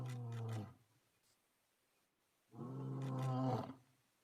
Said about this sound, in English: we were on safari, and I'm 35 meters away from this lion